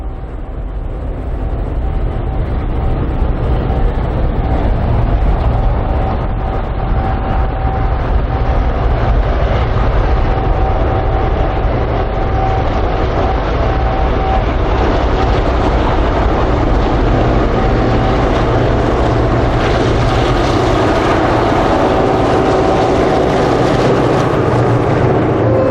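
Apex quarry freight train with locomotives T409 and S312 hauling empty wagons uphill over a summit, a loud, steady diesel rumble with rail noise that builds and holds throughout, close by.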